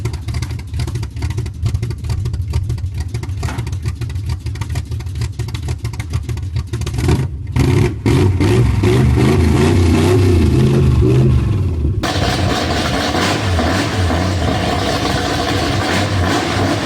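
A BMW E28's engine idles with a lumpy, uneven lope, loud and close, turning into a steady, heavier rumble partway through, with no talking.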